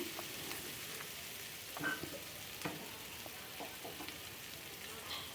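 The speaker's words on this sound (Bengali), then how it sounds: "এইভাবে পেঁয়াজটাকে বা রস পেঁয়াজ বা রসুন দুটোকে আমি সুন্দর করে ভেজে নেব" Onion and garlic fry gently in oil for a jackfruit seed bharta, giving a soft, even crackle and sizzle with scattered small pops and faint stirring taps, quiet and close with no talking.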